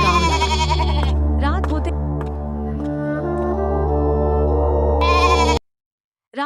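Cartoon sheep bleat in a series of loud, wavering calls, several overlapping voices, ending abruptly before a brief final bleat.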